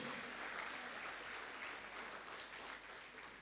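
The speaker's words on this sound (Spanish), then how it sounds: "Dale un aplauso al Señor." A church congregation applauds in a continuous, even roar of many hands clapping, distant and fairly quiet in a reverberant room, with no clear voices on top.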